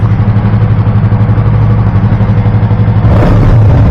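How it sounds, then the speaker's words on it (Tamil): A 2024 Yamaha R3 motorcycle's exhaust burbles loudly and close in a steady, pulsing low rumble. Its pitch lifts slightly in a small rev near the end, and no one speaks. "இவரோட எக்ஸாஸ்ட் நோட் பாருங்க"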